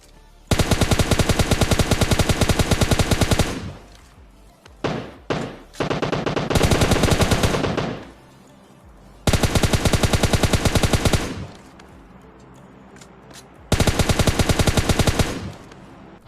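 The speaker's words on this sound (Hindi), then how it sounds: "यहाँ तुम गोलियों की आवाजें सुनो बैठकर, जो कि कुछ ज्यादा ही गोलियां चलने वाली हैं।" Machine gun fire in a shooting video game, several long sustained bursts of rapid automatic shots separated by short pauses and a few brief stutters, loud and close with no voices.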